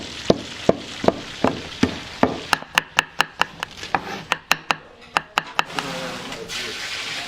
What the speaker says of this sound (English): they're also still chopping up tons of vegetables